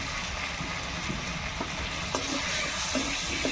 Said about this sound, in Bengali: এবারে আর একটু কষিয়ে নেব